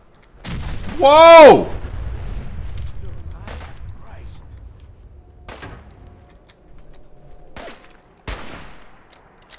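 Gunfire in the Fallout 4 video game: a loud burst of shots near the start, followed by a few sharper isolated shots spread across the rest, with a voice exclaiming briefly.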